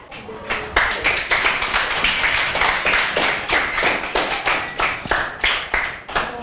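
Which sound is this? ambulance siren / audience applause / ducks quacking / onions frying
audience applause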